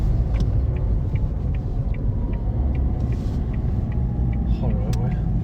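A tuned car's engine rumbles low and steady from inside the cabin while driving, with occasional clicks and rattles, as people chat over it.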